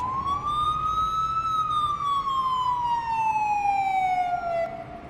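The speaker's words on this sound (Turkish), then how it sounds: "aç sirenleri" An ambulance siren in the Emergency Call 112 (Notruf 112) game wails loudly and continuously, rising and then slowly falling in one long sweep as the vehicle drives, with faint road noise underneath.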